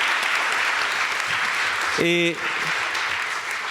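Steady audience applause at a business conference session, continuous and fairly loud, with a brief spoken word from a voice cutting through the clapping.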